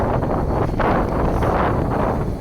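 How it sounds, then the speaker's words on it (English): Steady, heavy wind roars across the microphone outdoors during a high-wind drone flight test, a continuous broadband rush with gusty swells throughout. "A little wind there, huh?"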